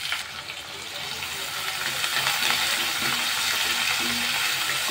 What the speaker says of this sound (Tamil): வெங்காயம் சேர்த்து லோ ஃப்ளேமில் 5 நிமிஷம் ஆகுது, போதும்.